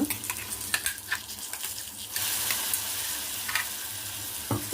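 Gongura leaf paste is dropped into a hot tempering of peanuts and urad dal for chitranna and stirred. Close scraping stirs give way to a louder, steady sizzle once the paste hits the oil.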